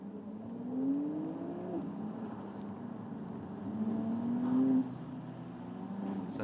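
Ferrari 488 race cars on the circuit at Okayama during a Ferrari Challenge Japan race, engines droning and rising in pitch as they pass at a distance, with no talking.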